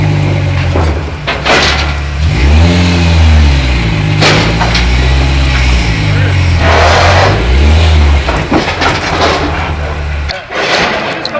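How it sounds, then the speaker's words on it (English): A car doing a trailer burnout at an off-road rally event, its engine revving loud and close in repeated rising and falling surges, with voices talking over it. "I told you you were doing trailer burnouts."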